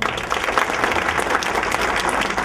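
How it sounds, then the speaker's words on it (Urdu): An audience claps steadily and loudly for a doctor at a literary interview event, a dense, continuous wash of applause with no pauses. "ڈاکٹر صاحب کے لیے بھرپور تالیاں"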